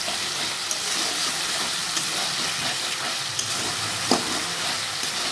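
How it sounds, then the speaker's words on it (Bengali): Spice masala frying in oil, a steady close sizzle with stirring scrapes and a few sharp spoon knocks, continuous and fairly loud with no voices. "আমি মশলাটা ভালো করে নামিয়ে আমি কষিয়ে নেব"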